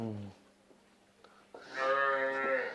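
A low, drawn-out moo from a buffalo rises and swells near the end, following a short low voice and a few soft knocks.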